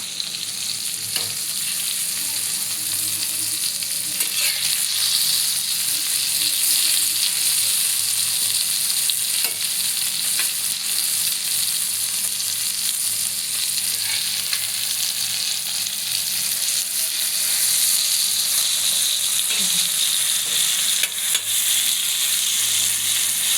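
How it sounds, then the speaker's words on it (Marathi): Marinated fish frying in a pan with a steady, loud sizzle and crackle throughout, with occasional scraping or stirring sounds, no talking. "झाले माझे मासे तळून."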